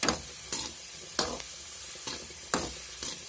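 Spices tempering in hot oil in a clay pot for a Nellore-style fish curry, with a low sizzle broken by four or five sharp stirring scrapes spaced about every half second to second.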